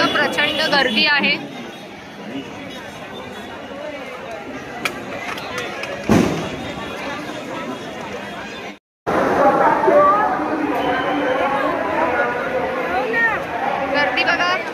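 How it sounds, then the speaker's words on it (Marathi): A dense festival crowd at Lalbaugcha Raja Ganpati in Mumbai fills the air with steady, loud chatter and hubbub, interrupted once by a brief silent cut before the babble resumes. "बघू शकता प्रचंड गर्दी आहे."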